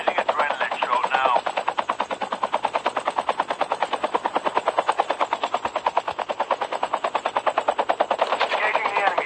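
Rapid automatic gunfire from a team shooter video game, a long sustained burst of evenly spaced shots rattling loudly and continuously, with a faint voice briefly near the start.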